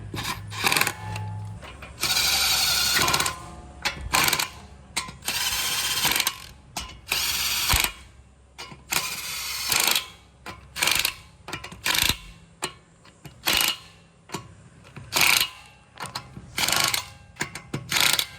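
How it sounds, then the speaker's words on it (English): Electric impact wrench zipping lug nuts onto a car wheel during a tire rotation: a long buzzing run near the start, then many short rattling bursts in steady succession, close and loud. "this is an electric impact. I'm not doing this really, really hard to tighten these"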